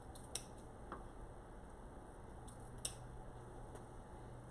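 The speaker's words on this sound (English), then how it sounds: "And then I will take my scissors and trim the ends." Scissors snip the ribbon ends of a handmade bow, a few sharp, sparse clicks and cuts over quiet room noise, with no voices.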